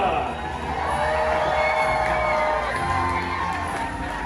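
A large crowd cheers and whoops for a king and queen at a staged medieval-style show, a sustained loud roar of voices with children's shouts mixed in, holding steady throughout.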